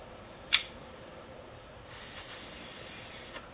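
Air blown through the carburetor float valve of a 1968 Fiat 850 Spider gives a steady, soft hiss lasting under two seconds, preceded by a brief sharp puff, close and fairly quiet.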